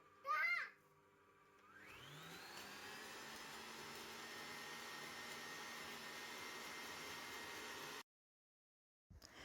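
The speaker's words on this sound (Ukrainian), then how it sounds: "перше збиваємо яйця з цукром, додаємо далі сметану" An electric mixer whips eggs with sugar for a sour-cream sponge cake, a steady, even whine running for about six seconds before it stops abruptly; a voice is heard briefly before it starts.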